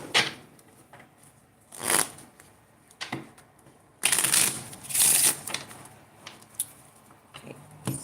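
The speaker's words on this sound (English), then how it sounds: "So let's put some more cards on here." Playing cards slapped and slid onto a table in irregular bursts, with soft flicks and rustling snaps near and close, some louder clusters of several cards in quick succession, no talking.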